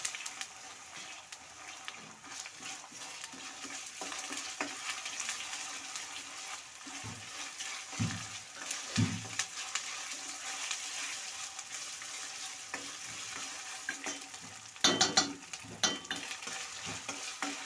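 Ginger garlic paste fries in a pan for an egg curry, giving a soft, steady sizzle broken by occasional scraping stirs of a spoon, close by but fairly quiet.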